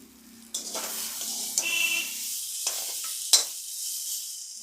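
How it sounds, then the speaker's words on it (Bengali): Boiled potatoes stir-fried in a pan for a home-style vegetarian soybean curry, giving a steady frying sizzle with scraping stirs and a sharp utensil clack near the end, close and moderately loud. "সেদ্ধ আলুগুলো দিয়ে এবার কষে নিচ্ছি"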